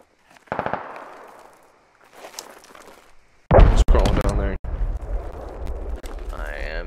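Gunfire rattles in the military shooter game Squad: a short burst of shots, then quieter noise, then a loud, close volley of rapid cracks followed by continuing rumble and scattered shots, with a player talking over it.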